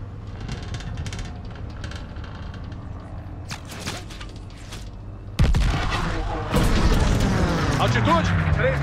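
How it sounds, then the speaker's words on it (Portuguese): Battle audio from the Call of Duty: Vanguard video game: a dense stream of gunfire and artillery that grows sharply louder partway through, with heavy booms and blasts layered under shouted voices. "Cuidado com os tiros!"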